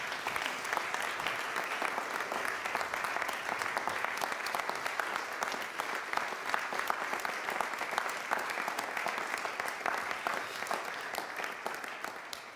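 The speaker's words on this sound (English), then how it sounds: "let's give an applause also to those who were with us" A large audience applauds steadily at an event to thank its supporters. The dense, even clapping holds at a constant loudness for about twelve seconds and fades slightly at the end.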